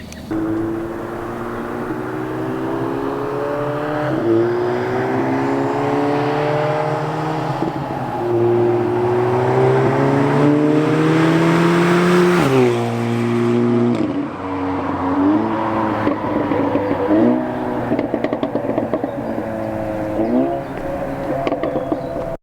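Audi A3/S3 fitted with an aftermarket exhaust, heard from inside on the road: a steady, loud engine drone climbing and dropping through gear changes, with a sharp rev break midway, alone without talk.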